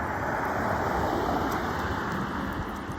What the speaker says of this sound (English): You have to bear with the noise from the traffic driving by.